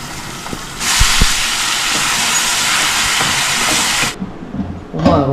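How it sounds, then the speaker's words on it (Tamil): Mutton hits a pan of fried onions and tomatoes with a loud, sudden, steady hiss of sizzling and steam that lasts a few seconds, then drops away before a clatter at the end. "வெங்காயம் தக்காளி வதங்கிடுச்சு நான் இப்போ இந்த மட்டனை சேர்த்துக்கிறேன்"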